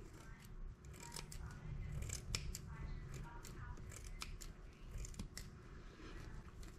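Scissors cutting material for an autism awareness wreath, snipping in a steady run of crisp repeated cuts up close, with a person talking now and then.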